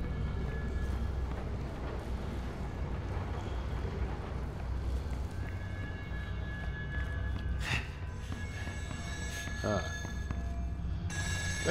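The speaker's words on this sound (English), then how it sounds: "There's the phone." Telephone ringing in the video game Still Wakes the Deep, set on an offshore rig, a repeated electronic ring over low rumbling ambience, with a voice speaking.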